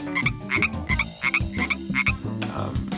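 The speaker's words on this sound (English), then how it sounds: "Certainly, they're the most heard frog. Their call is very iconic." Pacific tree frogs call in repeated loud, rhythmic two-part croaks, several overlapping nearby with no voices.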